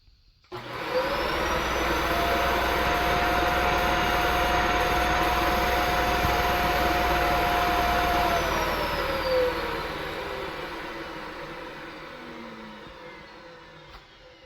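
A vacuum cleaner roars loudly and steadily at close range for several seconds, its motor whine holding level before winding down toward the end, powering a baby nasal aspirator.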